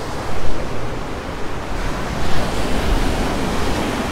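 Storm waves crash into a rock grotto at Fiolent on the Crimean coast, a loud, continuous roar of surf with surging swells and wind buffeting the microphone, and no voices.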